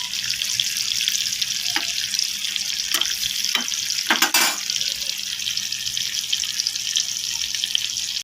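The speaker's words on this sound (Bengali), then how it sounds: "মাছটাকে আমি লাল করে ভাজা করে নেবো" Bata fish frying in a pan, a steady close hiss and sizzle running throughout with a few sharp clicks and bursts of utensil contact partway through.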